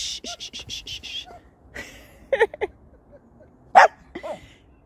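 A dog barks in a garden during autumn yard work: a few quick, sharp barks, then a single louder bark, fairly close, among quiet background sounds.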